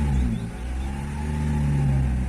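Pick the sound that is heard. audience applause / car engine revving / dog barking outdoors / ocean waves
car engine revving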